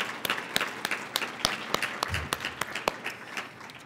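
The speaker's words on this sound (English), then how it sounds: "Can we give her another round of applause?" Scattered applause from a modest audience at an eviction prevention summit, with individual sharp claps standing out above a softer bed of hands.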